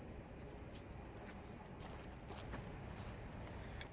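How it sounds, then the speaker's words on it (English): Crickets on a summer night trill in a steady, high, continuous chorus, faint and distant in otherwise quiet surroundings. "It is nighttime in the summer"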